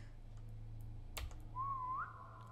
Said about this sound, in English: I can't tell if her whistle is near me.